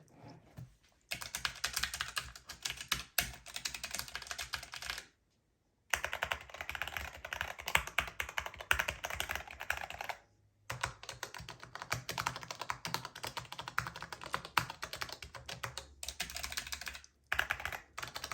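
Buttons on a Haute42 T16 arcade controller clatter in quick, dense bursts of light clicks, fairly faint and close, with brief pauses between runs.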